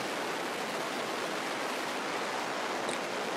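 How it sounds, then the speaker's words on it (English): Steady rushing water of a creek running through a ranch in gravelly ridge country with oaks and elms, a constant broadband flow with no speech over it. "Here's a nice creek that runs through the place."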